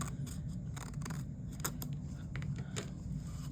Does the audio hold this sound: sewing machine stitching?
no